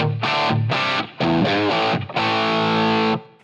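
Distorted electric guitar chords with EQ and reverb applied, fuller and smoother in tone, ringing into a long sustained final chord that fades with a touch of room echo.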